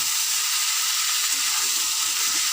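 Potatoes fry in hot oil with a loud, continuous, close-up hissing sizzle that stays even from start to finish.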